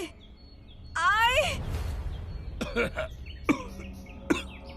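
A short squeaky vocal sound, then several rough coughs and throat-clearing bursts, close and fairly loud, with brief pauses between them.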